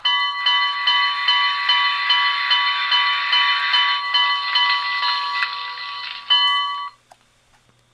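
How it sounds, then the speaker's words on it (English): A model Reading 2101 steam locomotive's electronic bell rings loudly and steadily, a rapid repeating metallic clang for about seven seconds before stopping abruptly into near silence. "And here's the bell."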